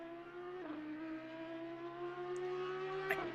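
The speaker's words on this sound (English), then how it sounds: "God, does the Audi sound so good." An Audi race car engine in the racing game Assetto Corsa drones at high pitch at Indianapolis, revving up slightly with a couple of brief gear-shift blips, steady and fairly distant.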